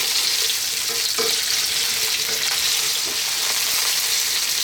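Chunky potato pieces frying over fairly high heat in a pan, a loud, dense and continuous sizzle with a few faint stirring knocks, heard alone without voices.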